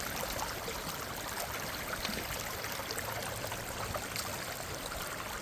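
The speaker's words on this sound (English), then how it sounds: "You got enough water going there, Rich?" Water rushes and splashes steadily through a gold prospecting sluice box in the rain in Indiana, a continuous bright hiss, close by and fairly loud, with no voices.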